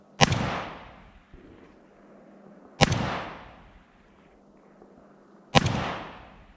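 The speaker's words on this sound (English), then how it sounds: "We fired with regular cartridge." Three sharp gunshots from a rifle fitted with a Vzor red dot sight, fired with regular cartridges at a target, spaced about two and a half seconds apart, each with a decaying echo tail over a faint steady hum.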